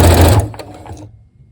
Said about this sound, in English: I have not used my sewing machine for quite some time